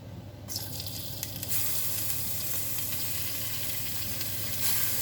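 Hog jowls fry in hot cooking oil in a pot, a steady, loud, close sizzle that continues throughout without any voices.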